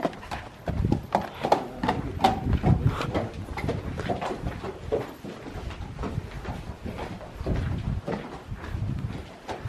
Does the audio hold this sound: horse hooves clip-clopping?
yes